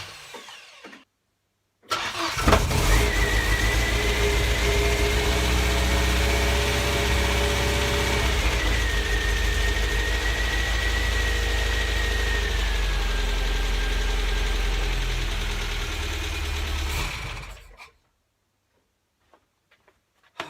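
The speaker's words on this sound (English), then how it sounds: "A very nice firm engagement and the engine turning over nicely." MGB GT engine cranks and fires after a starter motor repair, then settles into a steady, loud idle for about fifteen seconds before being switched off, no talking over it.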